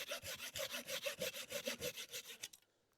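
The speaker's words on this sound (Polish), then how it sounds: "Tak się składa, że mamy dobrą piłę." A good hand saw cuts through wood with fast, steady back-and-forth strokes, loud and close, about a dozen rasping passes before it stops abruptly and falls quiet.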